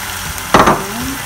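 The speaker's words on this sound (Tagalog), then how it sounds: "Igisa na natin ang ito, chicken breast." Chicken breast sautéing in a hot pan, a brief loud sizzle burst as the meat hits the oil, fading into a softer hiss.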